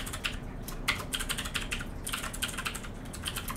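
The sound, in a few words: typing code on a computer keyboard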